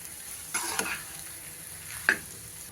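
A spoon stirs and scrapes masala frying in very little oil in a kadai for patti samosa filling, with soft sizzling and two brief clattering strokes near and clear, no talk.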